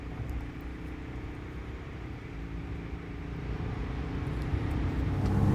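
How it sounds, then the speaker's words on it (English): A 2025 Chevy Silverado pickup accelerating hard, a steady low engine drone heard from inside the cab that builds gradually in loudness toward the end. "Let's see how it accelerates."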